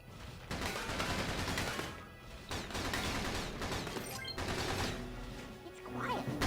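Battalion Wars video game gunfire: bursts of rapid shots and a dense fusillade running almost continuously, with brief lulls, under a busy battlefield mix and faint voice.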